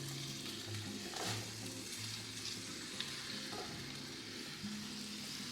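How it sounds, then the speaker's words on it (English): Onions going into a simmering Puerto Rican sofrito in oil for stewed salted cod, giving a steady, close sizzle and frying hiss with some stirring throughout, no voices. "Now that my sofrito is simmering a little bit, I'm going to go ahead and add the onions in."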